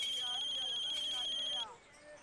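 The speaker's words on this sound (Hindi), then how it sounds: "आपका फोन बज रहा है।" An electronic phone ringtone trills steadily with a high, pulsing tone for about a second and a half, then cuts off, leaving faint room noise.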